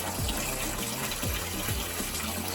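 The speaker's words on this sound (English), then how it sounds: "Let's run some domestic hot water." Domestic hot water gushes from a tap fed by a Burnham Alta combi boiler, a loud steady rush with low pipe or pump tones sweeping underneath, no speech.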